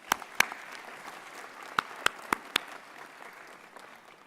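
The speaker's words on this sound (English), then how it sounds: "Let's give this award-winning choir another round of applause." An audience at a university graduation ceremony claps for a choir. Only a handful of distinct claps stand out, faint and scattered over a quiet room murmur, with no talking.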